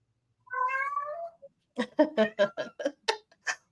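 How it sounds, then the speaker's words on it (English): A pet cat indoors gives a long, wavering meow, then a rapid string of short, loud meows close to the microphone, with no talk. "All of a sudden now my cat wants to sing"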